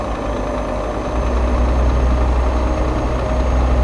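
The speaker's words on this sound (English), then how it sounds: "I just like the sound of the trucks and that as well, like the way they've done the sounds on the vehicles." A simulated truck engine from On The Road Truck Simulator holds a steady, deep idle, a loud low rumble that swells slightly partway through and continues with no voice over it.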